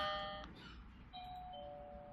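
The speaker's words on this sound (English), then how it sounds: "So when you press the button of your doorbell" A smart doorbell chime rings when its button is pressed, giving a few clear, steady electronic tones that sound, pause briefly, and ring again over a faint background.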